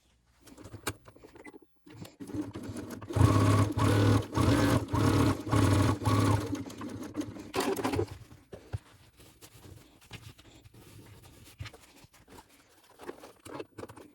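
Sewing machine topstitching a bag lining, a steady rapid mechanical patter running for about five seconds, then quieter handling and small clicks.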